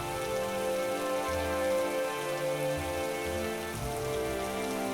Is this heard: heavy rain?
yes